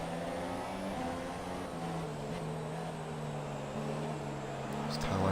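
Formula 1 race car engines in the F1 2017 video game at the race start in Hungary, a steady droning whine that shifts pitch as the cars accelerate, heard continuously under voice commentary.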